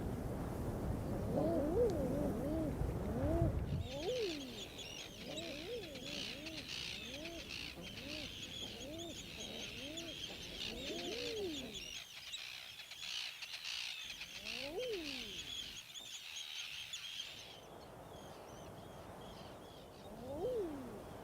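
Eider ducks calling in a nesting colony during breeding season, with a drake near a female: repeated soft rising-falling cooing calls, a steady high chirping chorus behind, moderately faint.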